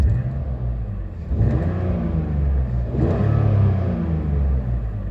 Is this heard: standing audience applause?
no